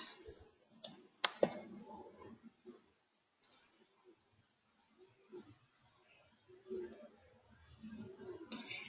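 Sparse computer mouse clicks, a few sharp isolated taps with quiet gaps between them, faint against a near-silent room.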